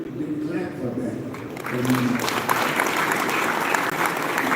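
An audience at a live event breaks into applause, clapping building up after a brief spoken moment and then continuing as a steady, fairly loud patter of hands to the end.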